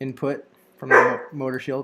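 A pet dog, cold and wet, gives a few sharp barks in the background, spaced irregularly among a man's nearby speech.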